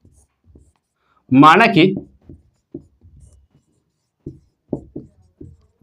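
A pen scratches and taps faintly across paper while a maths solution is worked out by hand, the light strokes coming in short, scattered bursts around a brief spoken phrase.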